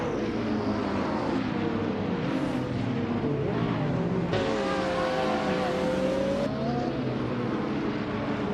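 A 1995 McLaren F1 GT race car in a Retro GT 500 class video game race, its engine droning steadily and rising in pitch as it pulls away from the start, loud and continuous amid other cars.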